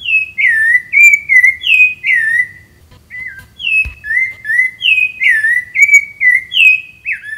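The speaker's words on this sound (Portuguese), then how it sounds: "Uma das características do Cerrado é o pássaro sabiá laranjeira" A rufous-bellied thrush (sabiá laranjeira) sings in the Cerrado, loud and close, repeating clear whistled phrases in a steady rhythm with a short pause midway.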